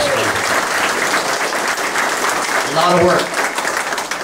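Audience at an Environmental Transparency Committee community meeting in Sheaves Cove applauds its 25 volunteers, a steady wash of clapping throughout with a voice speaking over it.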